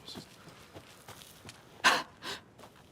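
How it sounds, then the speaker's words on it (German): A creature in Alan Wake II lets out one sharp, breathy snort, followed by a softer second exhale against quiet, muffled background shuffling. "Schnauft aber gleich so, als hätte es voll den Stress."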